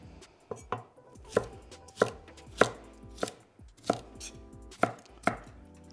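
A knife chopping julienned vegetables into small dice on a cutting board in a Chinese takeaway-style kitchen, about ten crisp, evenly spaced thunks close up, alone without voices.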